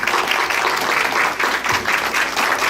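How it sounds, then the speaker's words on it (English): Audience applause fills a school board meeting, a loud, steady round of clapping from a crowd that continues throughout without pause. "big round of applause for our principals."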